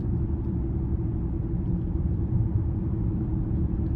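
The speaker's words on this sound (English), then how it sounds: "Just a little bit of road noise as I hit rocks and whatever" Steady low rumble of road noise inside a moving 2024 Mercedes-AMG GLE 53 Coupe rolling over small rocks, a continuous muffled drone with no talking.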